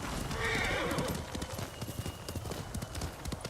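A horse trots in the Ghost of Tsushima video game with rhythmic clip-clopping hooves, close and steady, preceded by a neigh, while a voice talks faintly underneath.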